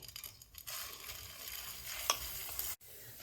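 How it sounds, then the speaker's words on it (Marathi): Moong dal being roasted in ghee over a low flame and stirred with a spoon, a continuous gentle sizzle with scraping and one sharp clack, close and fairly quiet. "आता ह्या तुपामध्ये आपल्याला ही डाळ चांगली खरपूस भाजून घ्यायची"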